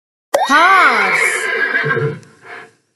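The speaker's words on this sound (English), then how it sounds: "horse," A horse gives a single loud, close whinny lasting about two seconds, wavering and then trailing off into a soft snort.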